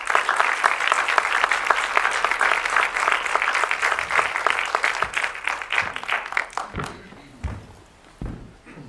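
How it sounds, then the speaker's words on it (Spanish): Audience applauding a visiting anthropology doctor at a conference, a dense sustained clapping that thins out near the end into a few scattered claps and thumps. "les pido un aplauso para el doctor Alfaro"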